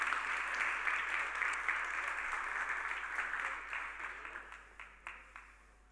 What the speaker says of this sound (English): So please, give them a warm round of applause on this Thursday morning and welcome them to the stage.